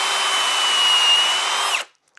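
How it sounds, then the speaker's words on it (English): A power drill bores a dowel hole in wood through a doweling jig, a loud steady whine for nearly two seconds that cuts off sharply, followed by a faint click. "So I'm going to drill one, four, then I'm going to move it so that we drill this hole down here"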